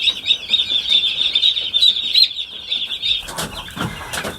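Many chicks chirp rapidly in a dense, high peeping chorus for about three seconds, then it stops and soft rustling and shuffling follow.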